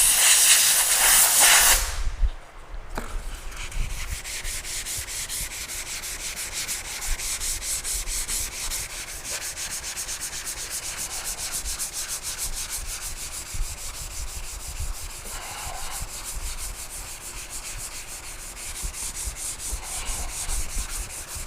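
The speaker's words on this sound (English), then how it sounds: "just started using these little pieces of sandpaper, little sanding pads" Hand sanding with 500 grit sandpaper on the repaired quarter panel of a Chevrolet Sonic, giving a steady, close, hissing rub that runs continuously with small rhythmic variations and no talking.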